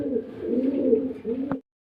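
A pigeon coos close by in a low, throaty rolling call lasting about a second and a half, then stops.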